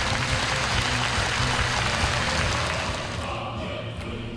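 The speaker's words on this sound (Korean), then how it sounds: "관람자들은 열광적인 박수를 거쳐 올렸습니다" Spectators at a North Korean stage performance applaud enthusiastically, a dense, loud roar of clapping that holds steady and then thins slightly toward the end, with a low drone beneath it.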